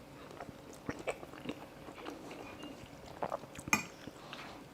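Close, quiet chewing and biting of a pork and pineapple noodle dish with crunchy vegetables and pork crackling, with irregular crunchy bites spread through and a faint clink of dishes or cutlery.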